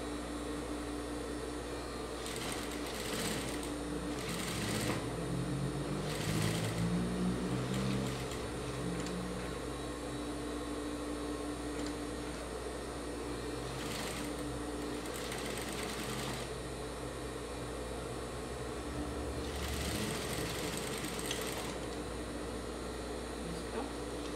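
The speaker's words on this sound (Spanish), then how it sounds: "Ahora cosemos la parte baja." A sewing machine stitches the lower seam of a simple fabric face mask in several bursts of fast whirring mechanical hum, separated by short pauses, close and steady over a constant low motor drone.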